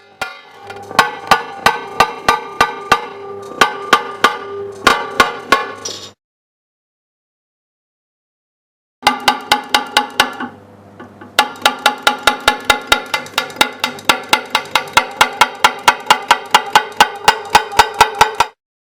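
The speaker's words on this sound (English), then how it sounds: "Open the whole circle at the lowest tapping force possible in the opposite direction to that in which the cut was made." A cut opener taps repeatedly against thick glass to open a circle cut, producing sharp, bright ringing ticks in quick regular bursts, with a pause of silence between runs.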